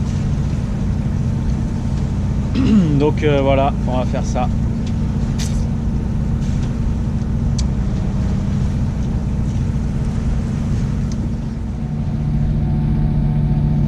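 Sailboat motoring on the Mediterranean under engine power, a steady low engine drone mixed with wind buffeting the microphone and water wash, while someone speaks briefly over it.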